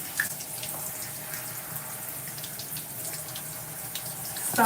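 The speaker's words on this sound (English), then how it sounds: "I just want to rinse out all the conditioner first" Tap water runs steadily and close by while conditioner is rinsed out of hair, a continuous splashing hiss with small shifts where the flow hits hair and the sink, and no voices.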